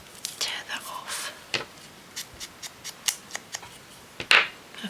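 Scrap paper being torn by hand for a small journal, producing a series of short, crisp ripping bursts at close range, some sharper and louder than others, with faint whispery sounds between them.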